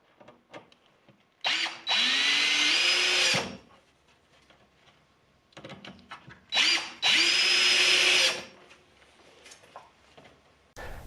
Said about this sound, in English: So I like to use screws to attach the wood to these corner